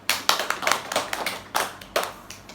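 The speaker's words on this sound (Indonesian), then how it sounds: "Boleh kita tepuk tangan dulu" A small group claps hands during a social welfare training session, with a handful of sharp, uneven claps in loose bursts that are close and fairly loud, with no voices over them.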